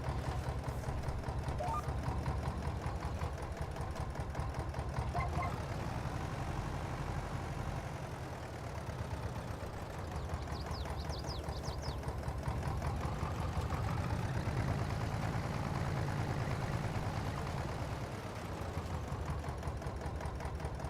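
A 1954 vintage farm tractor engine idles roughly, with a steady, uneven chugging throb that runs continuously and close by for the whole stretch, with no talking.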